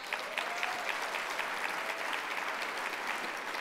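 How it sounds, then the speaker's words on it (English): Steady applause fills a conference luncheon room, a continuous, moderately distant patter of many hands clapping at an even level from start to finish. "Let's give him a round of applause for that."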